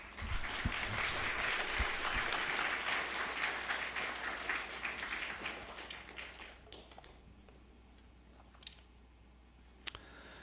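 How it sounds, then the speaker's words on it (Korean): A church congregation applauds to welcome a missionary to the front, a dense wash of clapping that starts loud and gradually thins and fades, leaving a few scattered claps and a sharp tap near the end. "나오실 때 우리 뜨거운 박수로 한번 환영해 주시면 감사하겠습니다"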